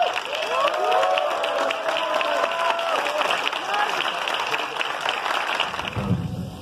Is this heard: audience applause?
yes